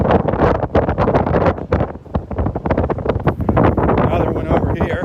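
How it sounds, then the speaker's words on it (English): Strong wind buffets a handheld camera microphone on Vanderbilt Beach. It makes continuous loud rumbling gusts and thumps that swell and dip without a break. "The wind is taking control of the camera."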